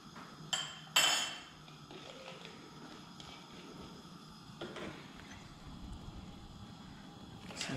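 Soji ingredients are stirred in a pot with a metal utensil, producing two sharp clanks at the start, then quieter scraping and tapping over a low background hum.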